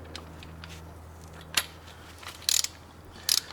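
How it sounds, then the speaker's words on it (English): A ratchet driving a 17mm socket tightens a bolt, making a few short, crisp clicks and metallic ticks over a quiet background hum, with no talking. "Make sure I got it in a tightening position on my ratchet."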